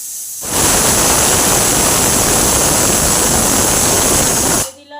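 Pressure cooker on a medium gas flame, cooking soya bean and potato pulao, lets out a loud, steady blast of hissing steam that lasts about four seconds before cutting off abruptly.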